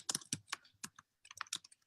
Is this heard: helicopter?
no